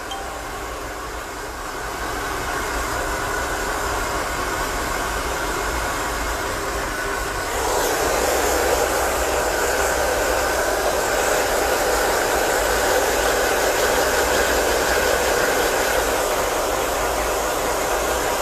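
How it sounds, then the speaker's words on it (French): A hair dryer blows steadily at the roots of hair, a loud, close, continuous whoosh that shifts slightly in tone partway through as the airflow changes, with no talking. "je vais juste vraiment continuer de sécher ma racine"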